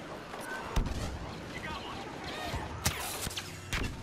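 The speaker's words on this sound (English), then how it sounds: "Explosion everywhere." Explosions and gunfire in the Star Wars Battlefront beta video game, with sharp blasts at scattered moments over a constant rumble of battle noise.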